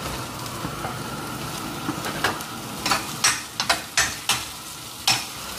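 Onions sautéing in a pan, a steady close sizzle broken by several sharp scraping stirs of a spatula in the latter half, with no voices.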